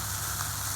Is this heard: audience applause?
no